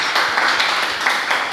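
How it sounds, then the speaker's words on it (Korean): An audience at a Korean missionary forum on education in Cambodia applauds together in a brief, dense burst of clapping heard close and fairly loud. "큰 박수로 우리 김용순 선교사님 격려해 주시면 감사하겠습니다"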